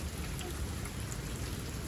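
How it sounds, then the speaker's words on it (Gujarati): Steady rain hisses evenly for a moment, soft and a little distant, with no voices. "બાકી તો આવી રીતનો વરસાદ અમારે આવે છે"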